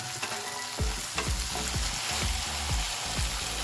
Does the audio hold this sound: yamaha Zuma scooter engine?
no